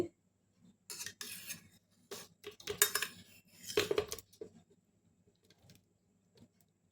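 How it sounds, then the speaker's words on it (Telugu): Ripe papaya pieces fall into a mixer jar, making several separate clattering knocks and rattles in short bursts. The sounds are quiet and close, with silence between them. "ఈ పండిపోయినటువంటి బొప్పాయి ముక్కలు కూడా దీనిలో వేసేస్తున్నానండి."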